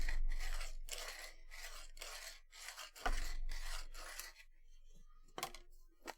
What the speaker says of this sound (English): so I should do more sanding